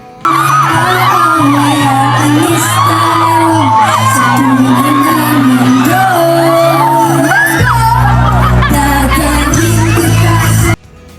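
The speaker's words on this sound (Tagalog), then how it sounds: "hiyawan na ang mga tao" A large crowd whoops, yells and cheers continuously over loud music at a festival performance in Tacloban, the roar staying strong throughout before cutting off abruptly at the end.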